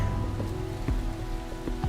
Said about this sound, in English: the rain just gets to be a bit too much.